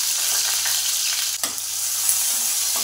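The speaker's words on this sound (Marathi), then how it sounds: "लसूण चांगला तांबूस रंगावर परतला आपण ह्याच्यामध्ये टाकूया टोमॅटो।" Tomatoes drop into garlic browned in a hot pan for a ridge gourd curry, and a steady close sizzle and crackle of frying runs throughout with a few stirring knocks and no talk.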